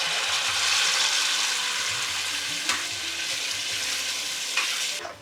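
Papaya paste roasts in ghee in an uruli, sizzling and frying steadily with a soft bubbling hiss while being stirred, close and continuous without talk.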